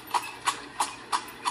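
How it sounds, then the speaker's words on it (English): Steady clip-clop of a horse pulling a cart in a children's educational game, five evenly spaced hoof knocks at a brisk walking rhythm, close and clear with no talking. "Horse cart."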